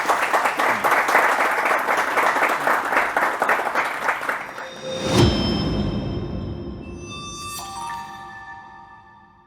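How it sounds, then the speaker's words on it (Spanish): Audience applause for a guest speaker at an academic talk, dense steady clapping for about five seconds that then fades out, followed by a few soft chime-like tones. "demos un fuerte aplauso a nuestro invitado especial"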